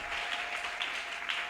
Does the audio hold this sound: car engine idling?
no